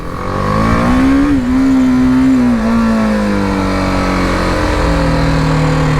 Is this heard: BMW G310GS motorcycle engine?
yes